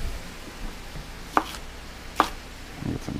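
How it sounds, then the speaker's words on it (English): A knife chops food on a cutting board while cooking chicken pot pie, with two sharp distinct chops about a second apart and faint handling noise, close up and without talk. "Get some chopping action out of this."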